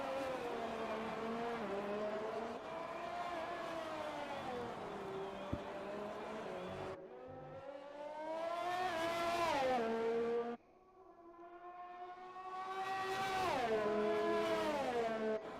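McLaren Formula One car from F1 2020 lapping the Vietnam circuit on medium tyres, its high engine note rising and falling through gear changes, with a sharp drop and fresh climbs as it brakes and accelerates out of corners.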